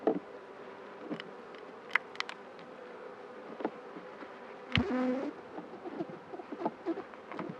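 Honeybees buzzing softly during a full beehive inspection, a low steady drone broken by occasional close clicks and knocks from hive frames being handled.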